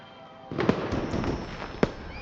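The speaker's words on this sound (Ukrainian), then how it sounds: "Запускаємо фейерверки з усіх гармат." A few sharp pops and whooshing bursts of video-game fireworks, with one loud crack near the start and another near the end over a steady background hum.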